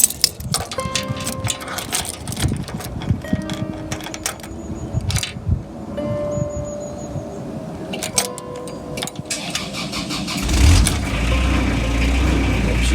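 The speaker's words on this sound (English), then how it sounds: "And to start the old engine up." An old boat engine cranks with irregular mechanical clatter and knocks, then catches and settles into a low, steady idle rumble near the end.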